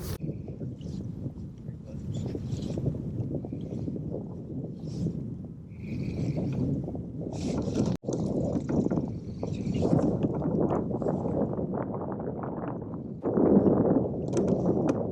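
Steady wind blowing across an open bay during cold-weather kayak fishing for spotted bay bass, a constant broad rushing roar with gusts and microphone buffeting, loud and close throughout.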